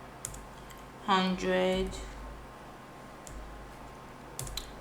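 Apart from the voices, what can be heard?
computer keyboard typing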